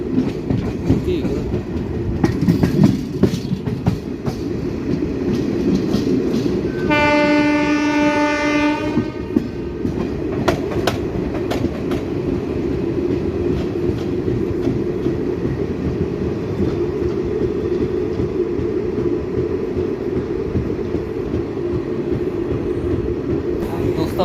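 A passenger train runs along the main line on the new Deoband–Roorkee route, with a steady rolling rumble and clatter throughout and a loud horn blast for a couple of seconds early on, close and continuous.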